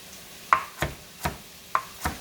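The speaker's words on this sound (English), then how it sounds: "I know I might be chopping quickly" A knife chops carrots on a board in a kitchen while lentil soup is being made, giving five or six crisp, evenly spaced knocks close by with no talking.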